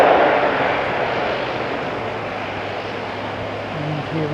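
A Boeing 787 Dreamliner takes off from Auckland International Airport bound for Melbourne, a steady, fairly loud broadband jet roar that is strongest at first and then holds, with a low engine hum running underneath.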